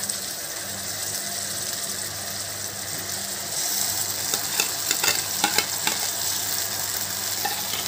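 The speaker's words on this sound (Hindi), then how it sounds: "ভাজা হয়ে গেছে, এরপর আমি দিয়ে দেব কুচানো টমেটো গুলো।" Chopped tomatoes for a prawn kofta curry frying in a pan, a continuous close sizzle that grows busier midway as stirring adds a few sharper scraping clicks.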